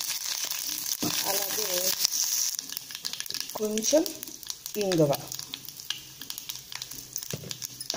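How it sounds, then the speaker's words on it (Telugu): Mustard seeds splutter and sizzle in hot oil for a tempering for cucumber chutney, a continuous crackling fry with scattered pops as someone talks over the cooking. "ఆవాలు మనకి చిప్పట్లాడుతున్నాయి కదా"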